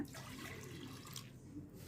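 Water pouring steadily into a pot of lentils, a close, continuous splashing trickle with no voices.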